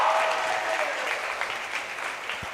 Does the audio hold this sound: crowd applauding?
yes